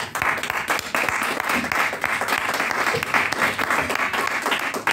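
Steady applause from a large church congregation, sustained clapping filling the room for several seconds without pause.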